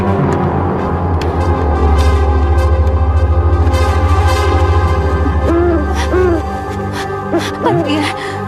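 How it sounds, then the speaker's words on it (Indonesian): Owl hooting at night, a few soft wavering hoots over a low droning background, with brief faint voices nearby. "Maksudku burung hantu."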